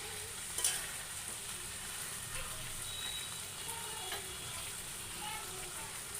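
Chicken with green peas and potatoes fries for a Bengali kasha, giving a steady, even sizzling hiss throughout, with a brief clink near the start.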